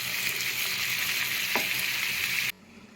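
Mutton curry masala sizzling in a pan after ginger paste and chopped tomatoes go in, a steady close crackling fry with one brief scrape, cutting off suddenly near the end.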